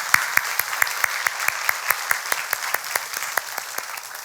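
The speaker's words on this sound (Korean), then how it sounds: "모든 영광을 다시 한번 하나님 앞에 박수로 드리겠습니다." A church congregation applauding to give glory to God, dense many-handed clapping with a steady, rhythmic pulse of sharp unison claps running throughout.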